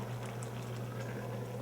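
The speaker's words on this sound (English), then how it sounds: "We're going to let this simmer until the liquids absorb." A covered pot of a Louisiana dish seasoned with Creole seasoning simmering quietly, a faint continuous bubbling and patter over a low steady hum.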